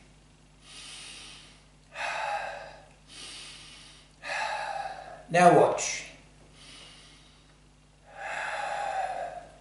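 Breathing technique demonstration: a series of deliberate, audible breaths, long airy inhales and exhales in slow rhythm with one sharp snort-like gasp midway, close and clear, with a brief spoken remark.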